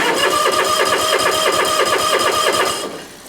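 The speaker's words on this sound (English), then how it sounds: "Let's just see here real quick if it'll turn over." A John Deere 2210 tractor engine turns over on a cold day. The starter cranks in a fast, even, loud chug that stays close, then drops off abruptly at the end.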